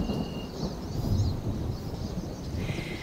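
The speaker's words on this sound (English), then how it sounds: "Thunder rumbles in the distance." Low, distant thunder rumbles on and on under a gray sky over Isle Royale, a broad soft roll with no speech, joined by light wind or rain noise.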